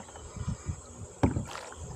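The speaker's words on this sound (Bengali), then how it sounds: "এখন আবার নৌকা বেয়ে নিব" Oars splash and knock rhythmically as a wooden fishing boat is rowed, giving a few soft strokes followed by a sharper thump and a watery swish, heard close with light wind behind.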